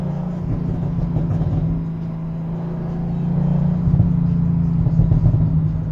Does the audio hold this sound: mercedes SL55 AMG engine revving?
yes